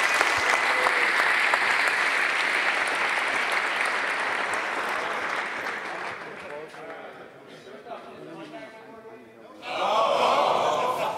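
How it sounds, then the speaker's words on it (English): A conference audience gives a huge, sustained round of applause for a security speaker at a hacker congress, dense clapping that fades after several seconds before a fresh loud burst near the end. "Give him a huge round of applause, the biggest one for any speaker"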